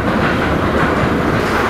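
A London train rolls along with loud, steady rumbling and rhythmic clickety-clack of wheels over rail joints, heard close from inside the carriage with no talking.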